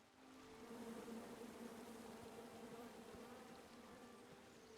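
A swarm of bees buzzes steadily around a beehive in a PC adventure game, a droning hum that swells in over the first second and holds close and even throughout.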